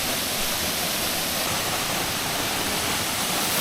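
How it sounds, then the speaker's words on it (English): Waterfall in a tropical Queensland rainforest, a steady, dense broadband rush of falling water, loud and close, with no pauses or voices over it. "This is just some random waterfall along the way"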